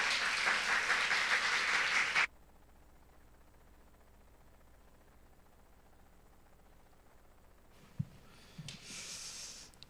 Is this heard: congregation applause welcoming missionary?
yes